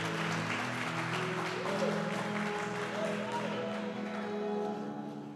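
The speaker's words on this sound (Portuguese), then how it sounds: "Dá um aplauso a Jesus com vontade nesse dia" A church congregation applauds in a steady, sustained wash of clapping that holds at full strength throughout, with held musical tones and a voice faintly underneath.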